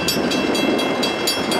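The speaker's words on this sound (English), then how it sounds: "Train at Wakefield absolutely thundering through the switch right there." A loaded Norfolk Southern coal train thunders through a rail switch at Wakefield, a close, loud continuous rumble with rhythmic clacking of wheels over the joints, heard alone.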